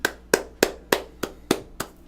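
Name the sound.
audience applause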